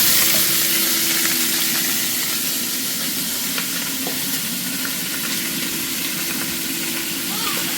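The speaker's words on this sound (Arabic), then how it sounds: "تنزلي اللحمه عليه عشان تتشوح" Meat fries in a pan over Egyptian home cooking heat, a steady, close, loud sizzle and hiss that runs unbroken from start to finish.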